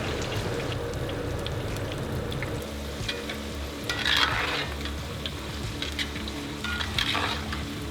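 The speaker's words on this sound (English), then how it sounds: "You wanna be very careful placing this in because this is much hotter oil" French fries frying in very hot oil, a dense steady bubbling sizzle close up with sharper crackling bursts as the oil churns, no talk.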